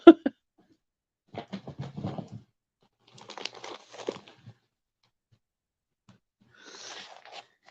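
Plastic packaging crinkles and tears as scissors open it, several short rustling bursts separated by silence, close and fairly quiet.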